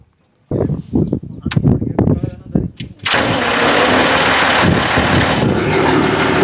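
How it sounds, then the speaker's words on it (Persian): A tractor for running an RSA SB96 baler cranks over with several uneven starter bursts, then catches and settles into a loud, steady close-up engine roar. "بریم دستگاه رو استارت کنیم."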